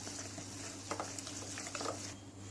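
Chocolate biscuit cake batter being stirred, a soft scraping and swishing that swells in a few brief pulses over a steady low hum, with no talking.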